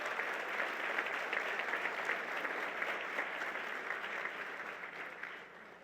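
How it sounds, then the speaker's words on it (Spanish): Steady applause from an audience at an opening ceremony, a dense patter of clapping that holds evenly and then starts to fade slightly near the end. "un aplauso para él"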